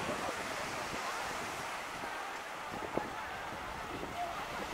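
Ocean surf and steady wind at Waikiki Beach, a broad continuous wash of waves with microphone wind noise throughout, fairly even in level with no voices.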